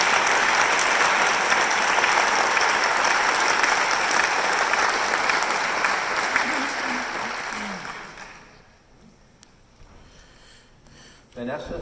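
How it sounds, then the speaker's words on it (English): Audience applause at the MIT Alumni Better World Service Award 2023 ceremony, a loud sustained clapping from a crowd that fades away around eight seconds, leaving near silence with a brief noise at the end. "let's give him a round of applause, too"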